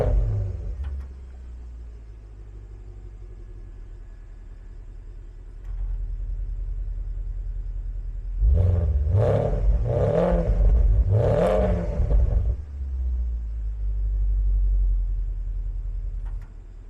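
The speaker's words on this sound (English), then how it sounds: "give it just a couple light revs for you, because this sport exhaust sounds so good" A 2010 Porsche Panamera 4S PDK with sport exhaust idles with a deep low rumble, then gets a few quick light revs that swell and fall in three or four close bursts before settling back to a steady idle, recorded outside the car.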